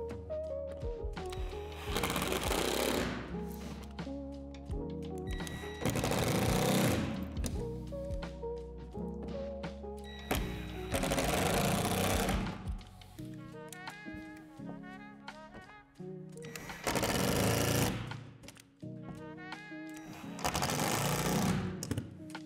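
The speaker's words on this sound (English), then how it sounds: "I find it easy enough just to drill through with the screw" A power drill drives screws through the plastic panels of a Lifetime utility shed, several long whirring bursts separated by short pauses, loud and close with no talking.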